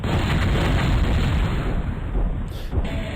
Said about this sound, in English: The explosion sound effect is so loud and over the top